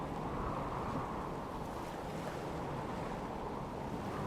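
Ocean waves in the Stormworks video game, with a steady wash of surf and wind noise around a boat out at sea, continuous and fairly loud throughout.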